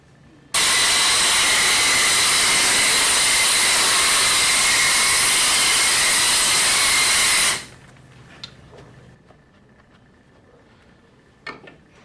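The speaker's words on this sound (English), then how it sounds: "we're going to go ahead and blow all this debris back into the corner" An industrial pneumatic blow gun, part of a dual suction-and-blow kit, fires a loud, steady blast of compressed air to push debris into a corner, running about seven seconds before cutting off abruptly into quiet room noise.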